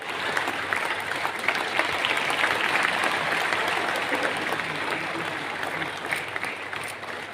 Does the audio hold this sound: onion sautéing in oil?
no